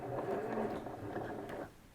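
A sewing machine runs unthreaded while stitching a DIY medical isolation gown, a brief steady mechanical whirring and rattling lasting under two seconds, fairly quiet and close, with no talking.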